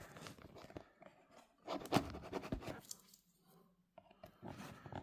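Tape is peeled off the box of a Turbo Racing C76 limited edition RC car: quiet, close scratchy tearing and rustling in short uneven strokes, with a sharper rip near the middle.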